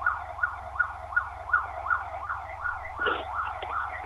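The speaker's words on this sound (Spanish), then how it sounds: "Solo sirenas." Emergency vehicle sirens wailing in Rosario, a fast repeating yelp cycling about every third of a second over a low engine drone, with a brief blast of a second tone midway.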